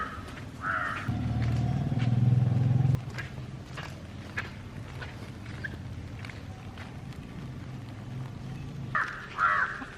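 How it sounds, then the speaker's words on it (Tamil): Crow cawing outdoors at a family home in a Tamil-speaking setting, with a few harsh caws in short bursts at the start and again near the end over a low rumbling background. "பாருங்கள் காக்கா கத்துது"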